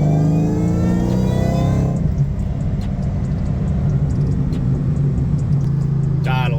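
2004 Mustang Cobra supercharged engine accelerating hard in third gear, a loud, steady, high-pitched supercharger whine rising over a deep engine rumble before settling into a sustained drone; a voice speaks briefly near the end.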